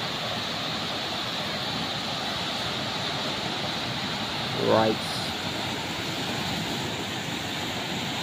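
Steady broadband wash of sea waves breaking at a shore on a morning beach, continuous and fairly loud throughout, with a brief spoken word near the middle.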